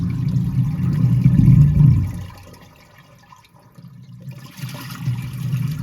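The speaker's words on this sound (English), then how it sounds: "A paper flush test." A household toilet flushing with paper in the bowl, a loud close rush of water for about two seconds that drains to a quiet gurgle, then the tank refilling with a steady hiss.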